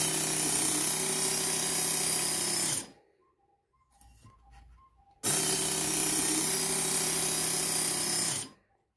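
A knife is sharpened on a Work Sharp Mk.2 powered knife and tool sharpener, making a loud, steady motorized whir with grinding, cut off by a few seconds of near silence and then resumed just as strongly.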